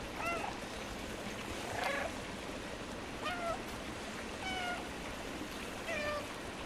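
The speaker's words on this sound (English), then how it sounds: "there's another achievement if you say meow 100 times as well" Cat meowing in the video game Stray: about five short rising meows spaced through the clip, moderately close, over a steady ambient background with no talk.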